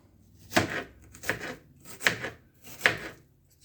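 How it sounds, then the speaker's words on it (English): A knife chops through half of a large onion on a cutting board, four separate dull thuds spaced evenly about a second apart, close and clear with no talking. "I'll cut up one more piece of onion."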